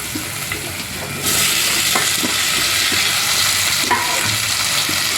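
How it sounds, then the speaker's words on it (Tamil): Ginger and garlic sautéing with onions in a pan, a loud continuous sizzle that swells after the first second, with occasional stirring scrapes. "வெங்காயம் வதங்கிட்டு இஞ்சி பூண்டு போடணும் விட்டாங்க இஞ்சி பூண்டு போட்டு வதக்கலாம்"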